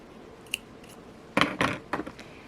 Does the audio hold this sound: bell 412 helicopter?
no